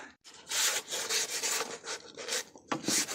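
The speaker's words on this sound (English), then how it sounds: "I'm going to sand it down now with this sandpaper." Continuous rhythmic scratchy rasping of sandpaper rubbed back and forth on a 2007 Chevrolet Silverado HD's front end, close up, with short pauses between strokes and no talking.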